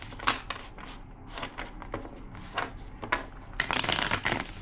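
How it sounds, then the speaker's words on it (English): A tarot card deck is shuffled by hand in a quick series of crisp riffling bursts, close and fairly quiet, with short pauses between the passes and a louder flurry near the end. "2 more shuffles."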